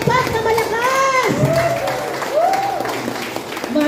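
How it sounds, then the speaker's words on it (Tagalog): Loud crowd applause greets a barangay captain at an oath-taking ceremony in Las Piñas, with clapping and cheering under a voice that rises and falls over it through the whole moment. "Isang palakpak na malakas!"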